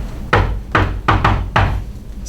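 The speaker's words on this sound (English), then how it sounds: "He knocks again a bit louder." Knuckles rap on a wooden door in four firm, distinct knocks spaced roughly half a second apart, close and fairly loud with no voices.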